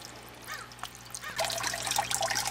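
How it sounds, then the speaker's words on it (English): Water trickles over a bell siphon standpipe in a small aquaponic grow bed of clay balls, a faint dribble at first that swells into a steadier, brighter splashing flow partway through, close and alone. "now the water's starting to come over the standpipe"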